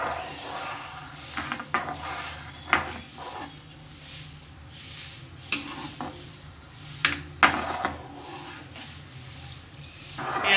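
A spoon stirs rice flour slurry into egg and vegetable soup in a pot, with soft scraping and clinking of utensil against the pot wall recurring irregularly at close range and moderate volume, no talking.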